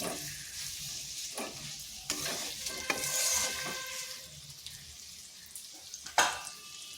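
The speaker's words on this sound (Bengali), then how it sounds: "এভাবে বেশ কিছুক্ষণ কষে নিতে হবে, আর অনবরত কিন্তু নাড়তে হবে, না হয় নিচে লেগে যাবে।" Potato curry masala for a vegetarian aloo dum fries in a pan, a soft sizzle broken by repeated scraping strokes of a stirring spoon, with a sharper clatter near the end.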